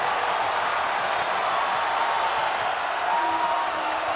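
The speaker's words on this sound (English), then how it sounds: "this crowd is alive in a very big way tonight at TNC" A basketball arena crowd roars steadily after a basket in an ACC men's game between Duke and NC State, a dense, sustained wall of cheering with no break throughout.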